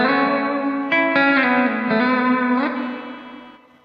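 An electric guitar plays strummed, distorted chords through a TC Electronic Hall of Fame reverb pedal with the reverb return turned up high, the chords ringing and washing out into a long, fading reverb tail.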